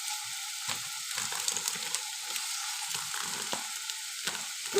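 Raw chicken pieces hit hot oil and fry with a steady, close crackling sizzle, broken by louder pops and spits and some stirring scrapes throughout.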